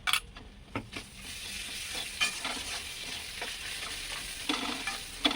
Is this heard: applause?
no